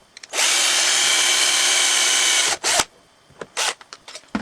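Power drill boring holes in a model car chassis, one loud continuous whir for about two seconds, then short bursts and clicks as the drill stops, starts and is handled, close and alone.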